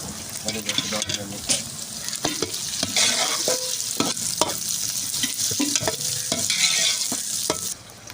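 Potatoes and bell peppers being stirred and fried in a pan at home, a steady close sizzle with repeated scraping stirs and clicks of the utensil, no talk.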